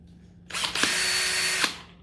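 A power drill spins up to top speed while buffing a car headlight, a loud steady whine lasting about a second with a sharp start and fading tail, heard alone.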